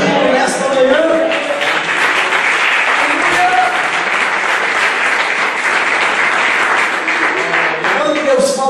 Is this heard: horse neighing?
no